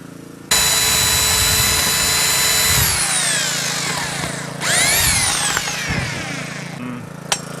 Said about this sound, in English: he can also countersink the other end of the hole